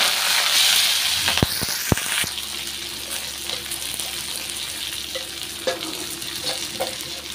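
Cumin, asafoetida, curry leaves and chilli sizzle in a hot pan, a loud initial crackle and stir clatter settling into a steady fry with occasional pops, close and without talk.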